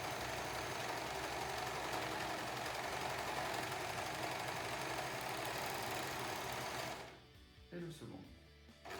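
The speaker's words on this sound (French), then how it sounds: "Je maintiens mon pli creux et je viens surfiler le bord" Sewing machine overcasting the edge of a fabric face mask with a held box pleat, running steadily and loudly for about seven seconds before stopping, followed by a few faint handling knocks.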